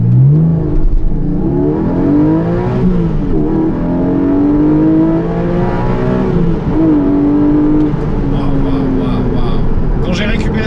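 A Porsche 718 Boxster GTS 4.0 flat-six revs up and pulls hard through rising gears from 0 to 80 km/h, loud and close, with a person talking excitedly over it.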